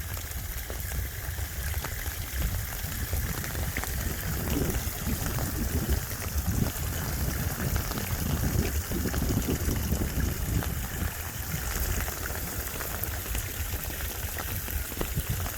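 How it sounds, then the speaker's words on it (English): Water from a breach at a lakeside community runs downhill, a steady outdoor rushing and trickling wash that stays even and fairly loud throughout, with no voices. "So we definitely have water that's going downhill."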